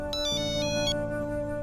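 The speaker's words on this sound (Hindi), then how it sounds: "अरे बैसा का फोन" A mobile phone rings with an incoming call, its melodic electronic ringtone playing steadily and clearly at close range for the whole stretch, with no talking over it.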